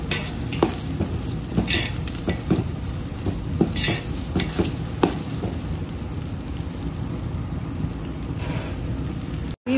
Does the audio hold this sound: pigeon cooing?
no